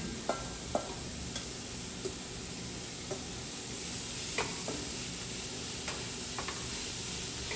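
Ground meat browning in a pot, a faint steady sizzle with occasional sharp ticks and scrapes from a utensil, quiet and close, without speech.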